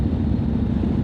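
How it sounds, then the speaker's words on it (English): The titanium exhaust of a Harley-Davidson CVO Street Glide ST gives a brief, steady, subdued low rumble, close by and without speech. "roll the throttle, you do get a decent sound. It's just subdued."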